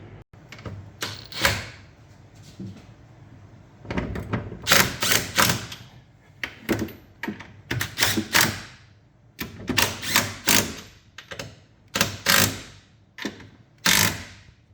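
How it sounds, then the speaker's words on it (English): A ratchet tightening the upper strut bolts on a 2017 Kia Soul gives bursts of rapid clicking and metallic clunks in irregular runs, close and loud, with no talk. "So let's go ahead and tighten those bolts up top."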